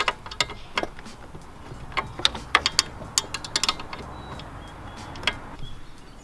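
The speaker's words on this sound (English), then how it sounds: "go back down to this bottom bolt right here with your wrench and then just tighten that up" Ratcheting wrench tightening the bottom bolt on a Subaru A/C idler pulley, a string of quick metallic clicks in short bursts, close and fairly quiet, with no talking.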